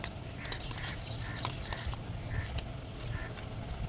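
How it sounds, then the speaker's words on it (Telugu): Curry being stirred into yogurt for potlakaya perugu pachadi (snake gourd yogurt chutney), with soft scraping and light clinks of a spoon against a bowl, steady and close, no talking. "కర్రీ వేసేసుకొని మిక్స్ చేసుకోండి"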